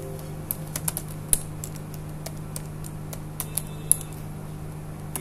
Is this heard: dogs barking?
no